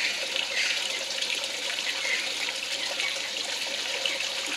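Water pours and splashes steadily into a model reservoir to simulate rain flooding, a continuous hiss of running water like a tap or trickle, close and even throughout with no voices.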